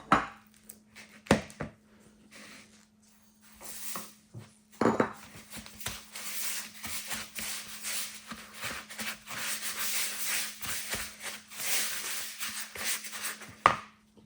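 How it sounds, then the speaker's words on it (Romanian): Softened room-temperature butter being mixed with sugar in a bowl for dried-fruit and nut biscuits, a steady scraping and rubbing of a utensil against the bowl with occasional sharper clinks, close and continuous with no talk. "Untul la temperatura camerei, îl amestecăm cu zahărul."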